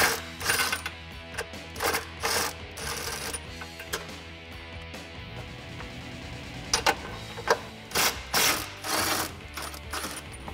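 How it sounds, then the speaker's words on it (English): Ratchet with an 18 mm deep socket removing bumper nuts on a Jeep Wrangler JL, close bursts of quick metallic clicking repeated in short runs with pauses between. "I'm going to be using an 18 millimeter deep socket in order to do that."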